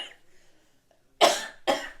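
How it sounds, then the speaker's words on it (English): A person coughs twice in quick succession, close and loud, after a quiet stretch with faint background rustle. "Cough break."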